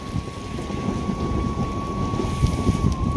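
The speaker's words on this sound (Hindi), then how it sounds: "तो फिर से बारिश आ गई है" Heavy rain pours steadily in a mountain setting during a hailstorm, a dense constant roar of drops with low rumbling thunder woven through, close and loud throughout with no talk.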